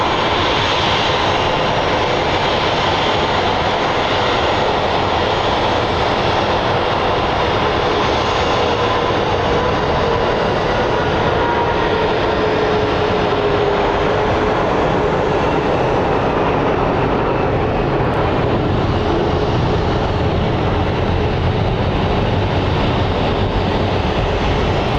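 An airliner takes off at Sky Harbor International Airport in Phoenix, its jet engines a loud, sustained broadband roar that holds steady throughout without any talk.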